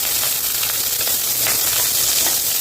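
Fennel and mustard seeds sizzle in hot oil for a Tamil kuzhambu tempering, a steady close crackling hiss with small popping bursts throughout, no voices.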